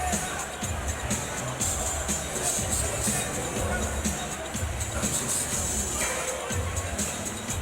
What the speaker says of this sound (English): Beat LA chant has been echoing through the sellout crowd at Oracle.